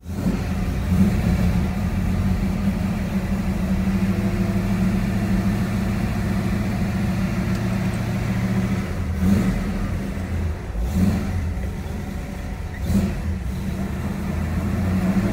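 A 1968 Ford Torino with a T5 transmission idles with a steady, loud, close engine rumble throughout, broken by a few short revving surges near the end.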